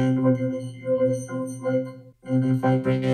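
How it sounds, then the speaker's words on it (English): A vocoder effect in Ableton Live with lowered bandwidth turns a voice-like signal into a buzzy, robotic harmonic tone. It moves in a few syllable-like bursts with a brief gap, loud and close. "This is a sound of the vocoder."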